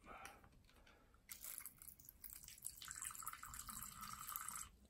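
Water trickles and splashes into a small tarantula's water bowl at close range, a soft faint pour lasting a few seconds, with a voice speaking quietly nearby.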